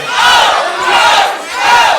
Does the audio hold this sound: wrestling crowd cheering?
yes